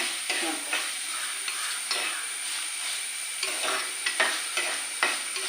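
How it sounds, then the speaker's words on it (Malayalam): Garlic, ginger and green chilli sauté in a hot pan for a fish curry, a steady close sizzle broken by repeated scraping stirs of a spoon against the pan. "അപ്പോൾ നമുക്ക് വെളുത്തുള്ളി, ഇഞ്ചി, പച്ചമുളക് ഇത്രയും നമുക്ക് ഇട്ട് കൊടുക്കാം. അത് നന്നായിട്ടൊന്ന് വഴന്ന് വരണം അല്ലേ."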